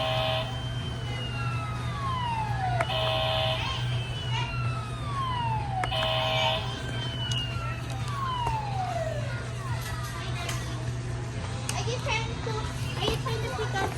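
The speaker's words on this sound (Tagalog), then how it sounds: "Blippi Fire Truck" A Blippi toy fire truck sounds repeated falling electronic siren wails and beeps over a low steady hum, while children chatter and play nearby.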